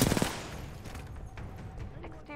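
Gunfire in the shooter game Titanfall 2, a quick loud burst of rapid shots at the start, then quieter scattered game noise with a voice talking.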